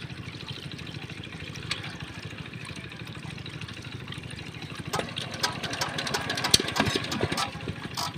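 New Tuber diesel engine running steadily while pumping water, a close rhythmic chugging that grows louder and rougher toward the end, with faint voices in the background.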